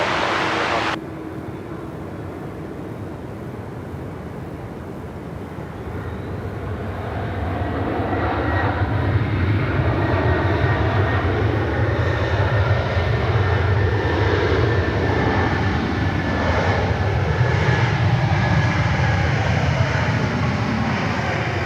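A jet airliner powered by old CF6 engines at Sydney Airport roars steadily, growing louder after a few seconds into a sustained, broad, close rumble with a whine on top, without speech.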